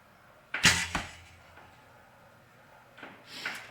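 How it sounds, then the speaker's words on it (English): Arrows are shot from a recurve bow: a sharp release snap and whoosh, a second quick thud, then after a pause another release and swish, all close by outdoors with faint background hiss. "Now I think the arrows are flying pretty good."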